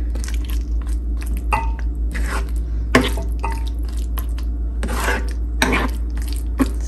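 Drumstick (moringa) fry is stirred in a pan: intermittent spoon scrapes and clinks against metal, with soft wet squishes, over a steady low hum.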